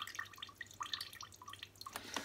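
Water drips and trickles from the back of a Numatic George carpet and hard floor washer, a run of small irregular close-up drips and splashes with no talking.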